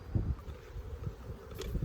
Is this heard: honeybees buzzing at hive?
yes